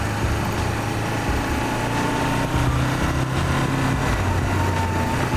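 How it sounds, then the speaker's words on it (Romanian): Blue motorcycle engine, found on a road near Poieni and said to lack pulling power, running close and steady with a rough, continuous idle and slight fluctuations, with no talking. "Avem o motocicletă care este albastră"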